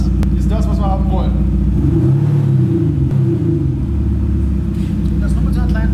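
An Audi SQ5 rumbles and revs through a BBM Sound Aktiv module, a deep, loud engine note that swells and eases steadily while someone talks over it.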